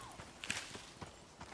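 Horse hooves clip-clopping across ground in the Icarus survival game, a few irregular soft thuds close by over a steady ambient bed, no speech.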